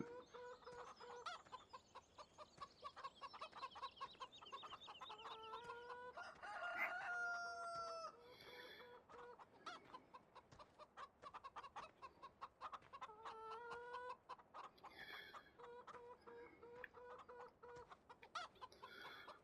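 Hens clucking and a rooster crowing around a chicken coop in the Farming Simulator 17 video game, a steady loud barnyard chorus of repeated clucks with crows rising above it throughout, no talking.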